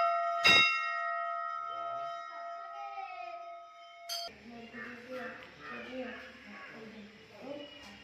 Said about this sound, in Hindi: मंदिर भितर घंटी बजुछंती